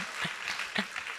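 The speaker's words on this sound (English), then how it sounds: "I need some applause for that." An audience applauds a speaker on stage in a brief, fairly faint burst of clapping.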